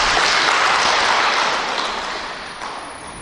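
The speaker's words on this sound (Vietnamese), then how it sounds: "Cho bà cụ một tràng pháo tay đi chứ." An audience applauds for an elderly woman, a dense, loud burst of clapping that slowly fades.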